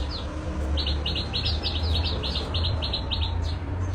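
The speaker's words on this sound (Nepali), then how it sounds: "म यो चराचुरुङ्गीको आवाजसँग उठेँ" Small birds chirp in the morning, a quick series of bright tweets in short bursts over a steady low background hum, fairly close and clear.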